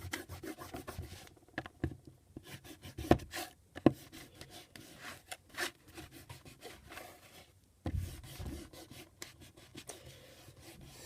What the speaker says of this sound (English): I'm going to take my handy-dandy eraser and erase these guidelines I had.